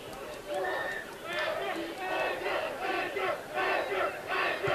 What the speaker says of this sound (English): Oh, here comes the crowd again.